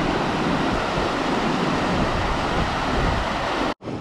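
Fast-flowing creek water rushes loudly and continuously nearby as a dense broadband roar, with a brief dropout just before the end.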